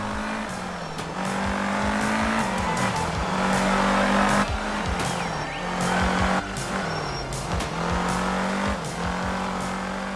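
Rally cars race in the video game Art of Rally, engines revving loudly and shifting through gears with tires squealing and skidding, a continuous close roar with repeated rises and drops in pitch.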